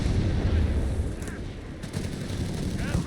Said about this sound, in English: Grenades are being chucked into the path here.